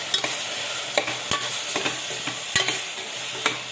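Onion and peanut spice paste is stirred into a ridge gourd curry in an oily pan, a steady sizzle broken by repeated scrapes and knocks of the spoon against the pan.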